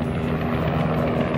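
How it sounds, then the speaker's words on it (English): A helicopter flies over the start area of the Dakar rally in Saudi Arabia, giving a continuous loud rotor drone and engine roar that fills the air without letting up. "As you hear, helicopter."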